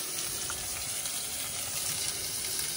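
Food sizzles while frying at a spot in Bolinao, Pangasinan, a constant close crackling hiss that fills the whole stretch without a break and with no talking.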